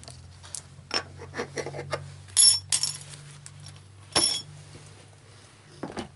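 Small dice clink and clatter together as a hand rummages through a pile searching for a four-sided die, with scattered light chinks, a few brighter clusters, and quiet pauses between them, close up and alone.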